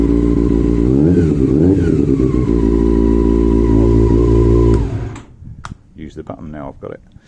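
A four-cylinder Honda CB400 Super Four motorcycle climbs a hill with a loud, steady engine drone and rising gear-change whines for about five seconds, then drops away to quieter idle and scattered handling noises.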